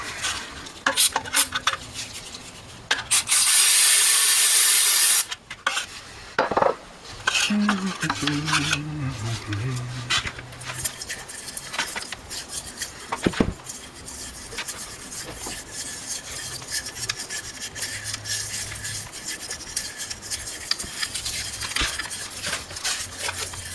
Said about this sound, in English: Just a little penetrant and some brushing and compressed air